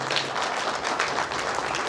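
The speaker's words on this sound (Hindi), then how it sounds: "एक बार आप लोग तालियां जरूर बजाएं" Audience applause at a public gathering in India, a steady wash of clapping from many hands, moderately loud and continuous for the full two seconds with no voices over it.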